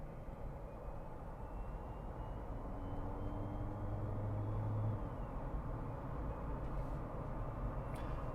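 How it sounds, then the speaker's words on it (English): A 2023 Jeep Wrangler Rubicon 4xe plug-in hybrid hums steadily while driving, a low, continuous buzzing engine drone with a faint rising whine, heard alone with no talk. "So hopefully you can hear that little buzzing engine noise that it makes."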